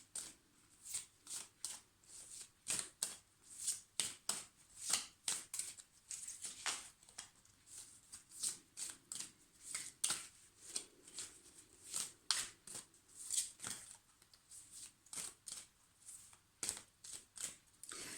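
Tarot cards being shuffled by hand close up, a continuous run of soft riffling bursts and flicks repeating in an irregular rhythm, quiet and without voices.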